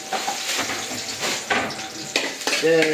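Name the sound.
garlic frying in oil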